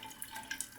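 Water trickling and dripping into a shaving soap lather, a short, quiet run of small splashes and drips with a few sharper droplet hits, no voices.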